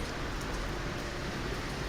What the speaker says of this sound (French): On vient du cinéma, il pleut, il faisait beau tout à l'heure.